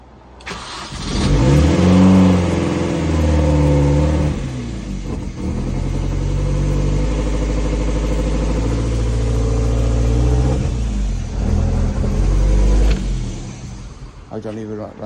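A Mini Cooper S R52 with a rebuilt supercharged engine fires up for the first time and is revved, a loud close engine roar rising and falling for the full length, with the supercharger not yet fitted to the auxiliary belt.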